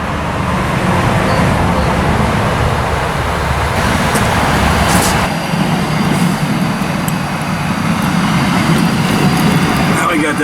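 The gas burner of a 20 x 30 Lone Star Grillz smoker roars steadily as it heats the pit for brisket, a continuous broadband rush with a voice briefly heard under it.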